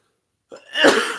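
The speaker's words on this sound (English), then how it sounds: "sorry about my cough." A single close, raspy cough, preceded by a short breathy catch, in an otherwise quiet room.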